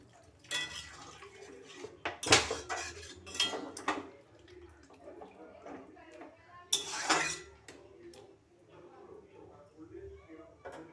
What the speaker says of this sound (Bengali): আমি একটা থালা দিয়ে শাকটাকে ঢেকে দিলাম।